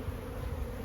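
Honey bees buzz in a close, steady drone while a hive is opened for inspection in a bee yard during the nectar season, a brief unbroken hum with no voices.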